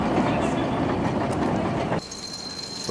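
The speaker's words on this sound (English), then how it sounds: "Here's that Poser's train is pulling up." Train pulling into a station in Switzerland, a steady loud rumble of rail carriages and wheels that cuts off abruptly into quieter ambience with a faint high whine.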